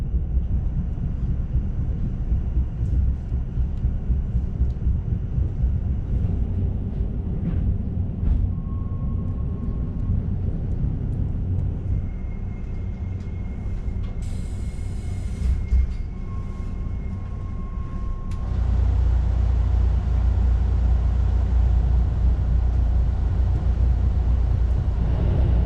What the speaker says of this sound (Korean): 신호대기로 잠시 역 밖에 정차한 열차는 잠시 후 태화강역에 진입합니다.